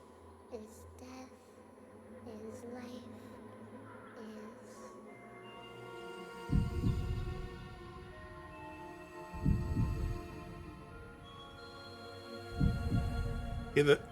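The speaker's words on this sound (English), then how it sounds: "It's a heartbeat." Within a song, a low, throbbing heartbeat pulses in three heavy thumps about three seconds apart under sustained tonal music, following quieter, lighter passages at the start.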